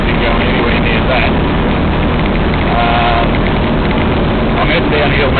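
Rainwater runoff from an overflowing dam rushes across a road, a loud, steady broadband wash that lasts the whole stretch.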